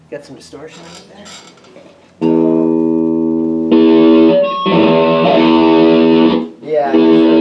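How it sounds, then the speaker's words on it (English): A Gibson Les Paul electric guitar plugged into an amp with distortion, loud sustained driven chords after some quiet picking, with a brief break before the chords ring again. "Got some distortion in there."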